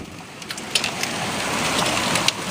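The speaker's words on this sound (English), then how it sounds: "Hear the hail hitting the glass?" Hail rattles against glass during a storm near a tornado, a steady dense patter with sharper scattered ticks of stones striking the pane.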